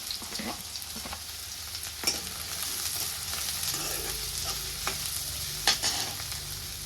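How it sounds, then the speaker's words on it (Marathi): Onion frying in hot oil, a bright steady hiss of sizzling fat close by, with occasional spatula scrapes and a couple of sharper clicks, no voices. "मी तेलामध्ये कांदा टाकून घेते कांदा आपल्याला छान असं तेलामध्ये तळून घ्यायचा"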